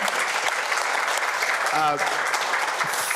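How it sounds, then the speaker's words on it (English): Audience applause at a triathlon press conference in Bermuda, thanking the triathletes: steady, fairly close clapping throughout, with a brief voice cutting through partway. "A round of applause, please, for our triathletes for joining us today"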